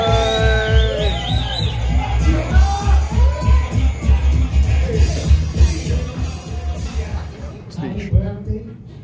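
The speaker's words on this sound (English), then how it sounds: "Let's like give a round of applause for Jake Ariola." At an 18th birthday debut party, a crowd in a hall claps and cheers loudly with scattered whoops and shouts. The noise swells and then thins out toward the end, and voices carry through.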